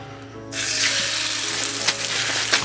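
A burger patty starts frying in a pan of oil preheated for about five minutes, a sudden loud, steady sizzle that bursts in and holds, with a couple of sharper crackles near the end.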